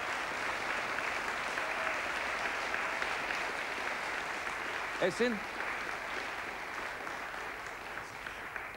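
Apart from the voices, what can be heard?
studio audience applauding on TV show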